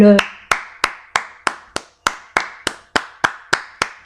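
Hands clap about a dozen times in a steady rhythm, roughly two per second, close and distinct, applauding a musician.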